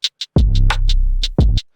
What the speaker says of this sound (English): I like doing this, cutting out the first hi-hat and then doubling.